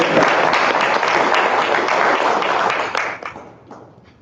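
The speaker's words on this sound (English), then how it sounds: "please join me in a round of applause for our panel." An audience at a city-wide community forum applauds a panel, with dense, loud clapping that holds steady for about three seconds and then thins out and fades.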